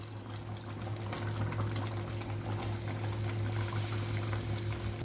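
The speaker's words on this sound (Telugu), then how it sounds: "ఈ గ్రేను ఉడికే చికెన్లో పోసుకోవాలి" Ground onion-tomato paste pours into chicken curry that is bubbling on the stove, giving a steady wet churning over a low hum, close and fairly loud, with no talk.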